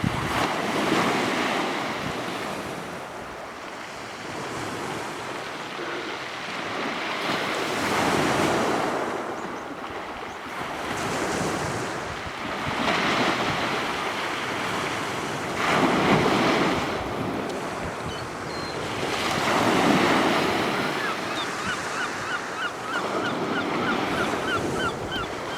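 Surf washes steadily onto the shore at St Bees on the English coast, waves swelling and breaking in repeated rolling surges, with strong wind buffeting the microphone throughout and no voices.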